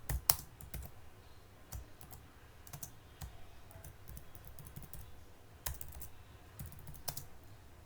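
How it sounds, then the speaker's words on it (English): Keystrokes on a computer keyboard tap out a message in quick, uneven bursts of close, crisp clicks, with short pauses between runs and no voices. "so we can type a message"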